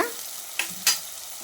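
Onions with salt sauté in a pan for a white pea vegetable curry, giving a close, steady sizzle broken by two short stirring scrapes.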